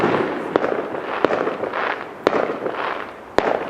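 Fireworks crackle and hiss continuously at an outdoor display, broken by four sharp loud bangs at uneven intervals, close and powerful.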